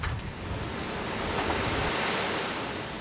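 Towering 40-foot seas breaking off reefs near Green Island, a loud, continuous roar of surf and wind-driven spray swelling slightly in the middle, with no voices.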